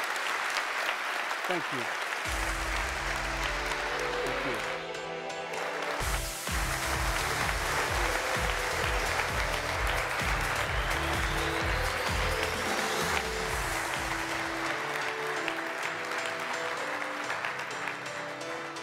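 A conference audience gives a keynote speaker sustained applause that fills the room for most of the stretch, with a brief word of thanks spoken near the start.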